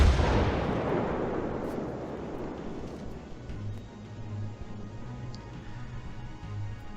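Naval shellfire in World of Warships: a heavy booming blast opens, then its long rumbling decay fades over several seconds beneath a low droning hum, with no voices.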